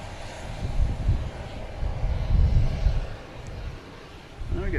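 An Air France airliner at Boston Logan Airport roars with a steady, distant engine rumble that swells and fades across the stretch, heard outdoors with no one speaking.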